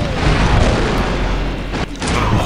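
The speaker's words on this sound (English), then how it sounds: "See that grenade right up there." A grenade blast in the Star Wars Republic Commando video game, a loud close boom that rolls into a long, dense rumble, briefly cut off near the end.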